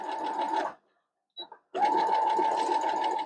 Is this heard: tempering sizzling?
no